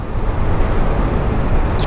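A fast-flowing mountain river rushes between high peaks beside a valley road, a loud, dense and continuous roar filling the whole stretch with no talk.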